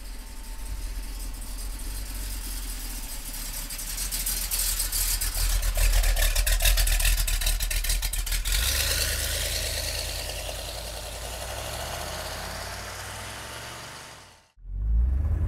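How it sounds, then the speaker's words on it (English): A 1968 Chevrolet Corvette with a big-block V8 and automatic transmission runs close by, a steady deep rumble that swells slightly and then eases. Near the end it cuts off briefly before the engine sound returns, and no one speaks. "here we go for a ride in the Corvette. Big block under the hood, automatic transmission"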